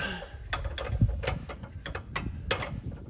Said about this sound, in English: we're gonna roll our jack around until we get our bolt holes lined up